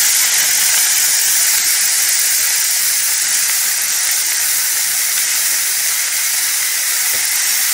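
Chopped noni saag greens hitting a hot pan, a loud, steady hiss of sizzling and steam that holds evenly throughout with no voices.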